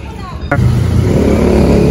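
Cars and motorcycles pass on Magallanes Drive by the Pasig River Esplanade in Manila, a loud, steady roar of close traffic that swells sharply halfway through as a vehicle surges past, with faint background voices.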